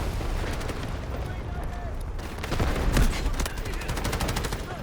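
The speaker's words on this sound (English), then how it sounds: "That guy ran right into my bomb." A bomb goes off in the video game Delta Force: a deep, loud blast near the middle, set among bursts of rapid gunfire and battle noise.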